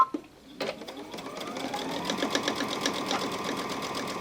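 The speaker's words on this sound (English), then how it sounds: "I'm sewing real close to the edge of it, and when I turn it and top stitch it, it's going to catch the edge anyway" Sewing machine running steadily as it stitches close to the edge of fabric with fusible interfacing for a purse organizer, a continuous close whirring hum with rapid needle ticks after a brief quiet start.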